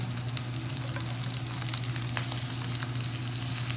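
Salmon and bacon fry in a pan with a dense, steady crackling sizzle that holds even and close throughout, with no voices.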